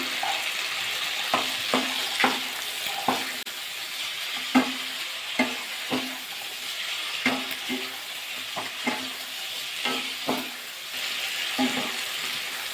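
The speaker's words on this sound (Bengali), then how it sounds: "সব সবজিগুলো দিয়ে দেবো, দিয়ে ভালো করে কষিয়ে নেবো সবজি দিয়ে মশলা দিয়ে।" Mixed winter vegetables and spices, with green peas, sizzle as they are stir-fried in oil in a kadai. A steady frying hiss runs throughout, broken by a series of sharp, close scraping knocks from a spatula at irregular intervals.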